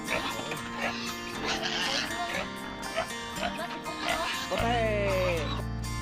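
Goats kept on a farm call out in nasal, wavering bleats, with one clearer drawn-out cry near the end, over a busy, cluttered background.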